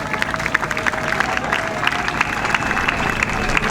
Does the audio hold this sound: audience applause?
yes